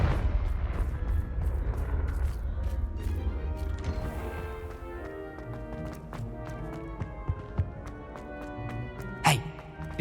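A Confringo fire spell blasts in Hogwarts Legacy, part of a run of crashing impacts and rumbling bursts. A sharp loud burst sounds near the end.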